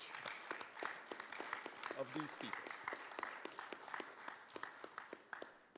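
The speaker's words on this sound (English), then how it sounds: "the rest of us will show appreciation by giving you a round of applause" An audience gives a round of applause at a conference hall gathering, a soft, fairly distant patter of many hands clapping steadily, with a brief spoken phrase partway through.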